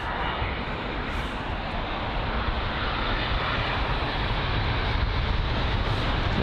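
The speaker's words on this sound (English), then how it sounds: "Oh, the Qatar A380 there, heading to Doha." A Qatar Airways Airbus A380 jet airliner bound for Doha from London Heathrow makes a continuous, dense engine roar, loud and even throughout, with no speech heard.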